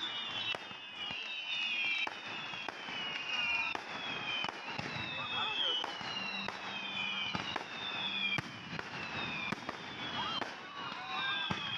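Fireworks burst and crackle repeatedly at Nicco Park in Kolkata, loud dense pops and whistling streaks filling the night air, with faint voices in the crowd.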